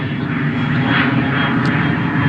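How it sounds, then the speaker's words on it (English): A regional jet passing near a regional airport, a steady broad jet roar that swells slightly midway, moderately loud and continuous with no voices. "Regional airport, regional jet."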